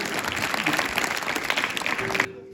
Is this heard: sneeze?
no